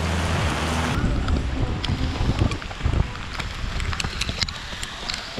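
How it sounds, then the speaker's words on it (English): Strong wind roars and buffets the microphone in heavy gusts, with scattered rattling and flapping sounds underneath. "it is so windy"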